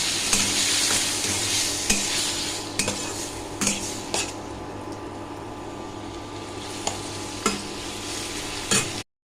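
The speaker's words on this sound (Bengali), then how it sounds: "চিংড়ি মাছটাকে দিয়ে হালকা করে ভেজে নেব" Prawns lightly frying in a pan, with a steady sizzle throughout and repeated clinks of a metal spatula or spoon stirring against the pan, close and fairly loud with no talk.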